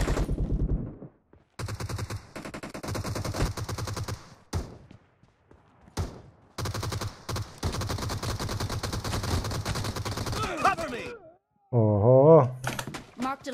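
Pistol gunfire in the mobile game PUBG Mobile, rapid bursts of sharp repeated shots separated by short silences, with game sound effects toward the end.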